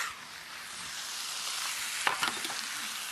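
Ginger, garlic and scallion whites and greens sizzle steadily in a hot pan for kung pao chicken, a broad crackling hiss with a few sharper stirring clatters near the end, no voices.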